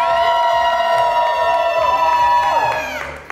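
A crowd at a lip sync battle cheers and whoops loudly and continuously, the roar holding steady before fading at the end.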